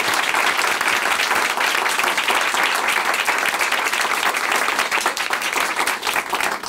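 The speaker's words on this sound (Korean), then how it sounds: "박수 보내드릴까요?" A church congregation in Chuncheon gives sustained, dense applause during a Korean Christian testimony television program, a steady wash of many hands clapping at even loudness throughout.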